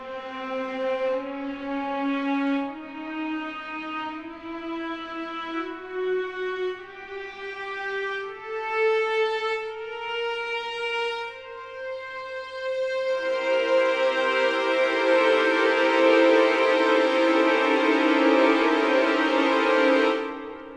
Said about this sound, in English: It's called the octatonic scale.